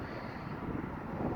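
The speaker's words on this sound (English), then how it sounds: "It's still windy out here in Alvarado" Wind blows outdoors in Alvarado, Texas, a steady low rushing roar buffeting the microphone, continuous and fairly faint, with no voices.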